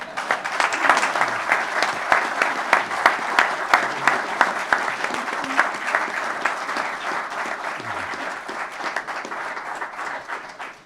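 Sustained audience applause at a Pearl Harbor memorial beacon lighting on Mount Diablo, a dense steady roar of many hands clapping from a nearby crowd, continuing for several seconds before easing off at the end.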